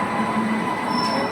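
A train rolls through a railway crossing during heavy unseasonal rain, making a steady, loud rumble with a faint metallic wheel squeal, close by and continuous, with no talking.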